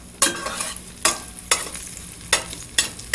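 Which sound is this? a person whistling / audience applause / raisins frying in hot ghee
raisins frying in hot ghee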